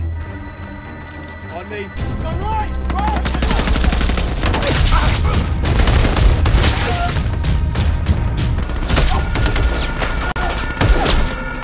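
Gunfire crackles in a film's rescue-mission shootout, with dense bursts of shots and booms under a narrator's continuous talk, loud and near.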